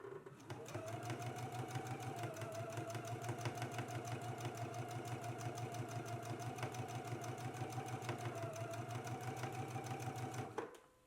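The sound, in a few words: sewing machine stitching a narrow hem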